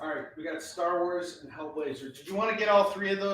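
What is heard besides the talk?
No everyday noises stand out.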